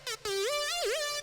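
A rage-beat synth lead from a preset called Mr. Rage sings a bright, buzzy melody with pitch bends and a dipping glide. It plays loud and alone after a brief stab at the start.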